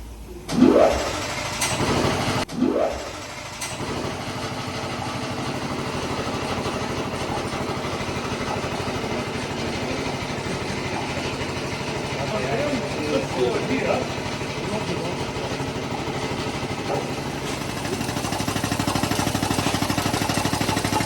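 A compressor runs steadily, charging the starting air tank of a 1970 Blackstone generator toward a 300 psi rating, a continuous mechanical drone broken by a few louder knocks near the start and a swell toward the end.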